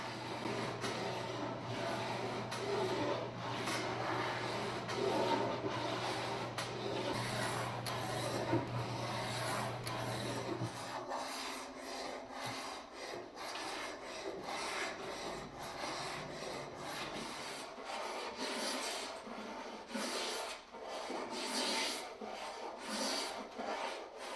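Continuous rasping strokes of a tool scraping across wood, repeated in a steady rhythm, close and fairly quiet.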